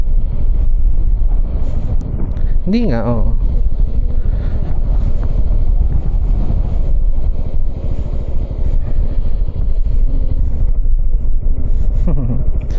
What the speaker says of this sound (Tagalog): Ang hangin, sarap.